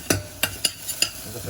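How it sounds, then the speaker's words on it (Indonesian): Chilies sizzle as they sauté in a pan for bakso aci, with a continuous frying hiss under four quick, sharp scrapes and knocks of a spatula against the pan. "Kita tumis cabenya sudah harum."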